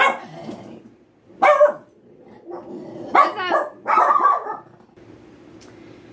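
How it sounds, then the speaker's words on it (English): Several dogs at a home window bark in short bursts, close and loud, with gaps of quiet between the barks. A person briefly speaks once near the start. "my dogs are looking out the window to bark"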